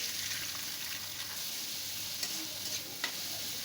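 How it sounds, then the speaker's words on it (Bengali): A spatula stirs and breaks up eggs in a frying pan, giving a steady soft sizzle with light scraping strokes, close and alone. "আমি খুন্তির সাহায্যে ছোট ছোট করে নিচ্ছি ডিমগুলো"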